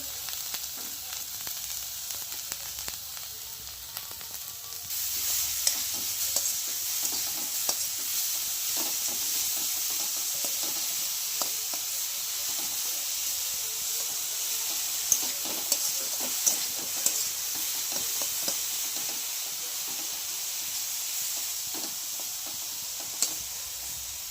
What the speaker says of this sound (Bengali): কড়াইয়ে একটু ঘিয়ের মধ্যে গাজরটা দিয়ে দিলাম